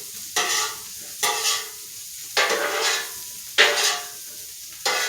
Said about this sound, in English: So let the potatoes soak up the fat from the bacon.